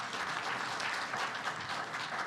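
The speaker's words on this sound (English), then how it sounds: "Can we get a round of applause for our panelists?" An audience applauds panelists at the close of a policy track session at a symposium, a steady wash of many hands clapping that fills the room evenly for a couple of seconds, with no voices standing out.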